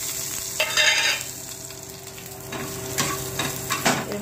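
Bay leaf and crushed whole garam masala (cloves, cinnamon, cardamom) sizzle in hot oil in a pan, with soft stirring scrapes rising and falling over a steady crackle.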